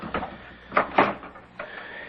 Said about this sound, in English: would you open the door, please?